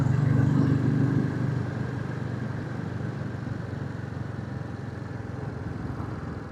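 A Royal Enfield 350 motorcycle engine thumps at a steady mid pitch while riding on a quiet road before dawn, louder at first and then settling under a continuous rush of wind.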